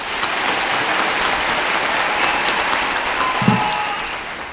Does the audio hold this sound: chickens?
no